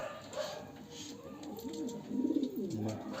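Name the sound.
pigeons cooing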